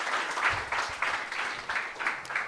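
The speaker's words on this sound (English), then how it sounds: "A round of applause to our next participant." Audience applause at a Women in Tech hackathon as a participant is called to the stage, a short burst of moderately loud crowd clapping with a rhythmic, pulsing texture.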